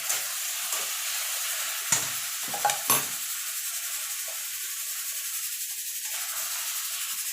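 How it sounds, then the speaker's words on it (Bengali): Taro leaves (kochu shak) with a squeeze of lime juice, stirred in a frying pan for a Bengali vegetarian dish: a soft steady sizzle with a few sharp scrapes and knocks of the spoon against the pan. "এবার আমি নাড়িয়ে দেবো।"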